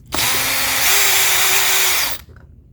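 A power driver backs out a gas tank screw on a Ryobi RY251PH trimmer power head, giving one close, steady whir of about two seconds that rises slightly in pitch before stopping.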